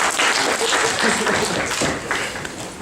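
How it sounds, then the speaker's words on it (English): A lecture-hall audience breaks into applause, a dense wash of many hands clapping together for a few seconds at a steady level, fading slightly toward the end. "I think that deserves a round of applause"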